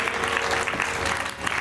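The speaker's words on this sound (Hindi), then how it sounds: "एक बार जोरदार तालियों से अभिनंदन करें" Loud, steady applause from a crowd welcoming a dignitary at a Hindu religious discourse gathering, dense clapping sustained throughout with no pause.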